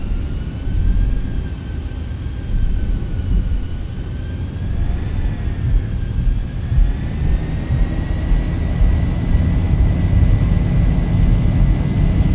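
Engines of a Zibo Boeing 737-700 spooling up to takeoff thrust in X-Plane 11, a loud sustained jet roar with rising whining tones that climb and shift in pitch over the run.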